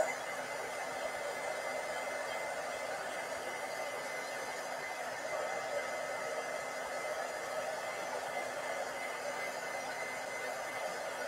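A hair dryer runs steadily at close range, drying glue on handmade sun and moon nursery decor pieces, its broadband whoosh unbroken and even throughout with no talk.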